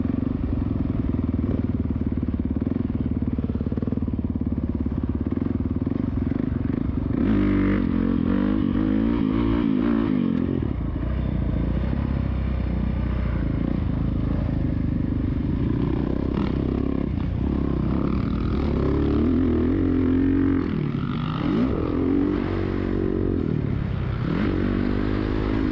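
A Suzuki motorcycle ridden out on the road, its engine droning steadily and loud throughout, with pitch shifts as it changes speed and some rumble and wind noise.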